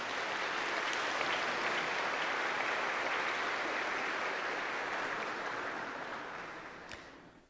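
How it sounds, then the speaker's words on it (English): An audience at a Greek Orthodox church gathering gives sustained, even applause, a dense wash of clapping holding steady for several seconds before tapering off. "Let's give them a round of applause"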